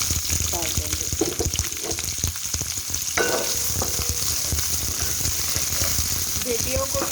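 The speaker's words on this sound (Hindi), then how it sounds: "इसी पैन के अंदर थोड़ा सा ऑयल मैं 2 से 3 खाने के चम्मच और ऐड करूँगी और इसके अंदर ये जो है हम लोग प्याज को डाल देंगे" Onions slide into hot oil in a pan for masala bhindi and hiss into a steady, close sizzle with a few stirring scrapes. The frying noise runs without a break the whole time, and faint speech comes through now and then.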